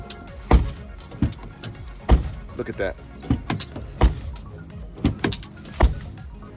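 Broken glass loose in the bottom of a 2014 Hyundai Elantra door, left from a break-in, rattles in sharp repeated clatters about once a second as the door is shaken, with a brief spoken remark over it.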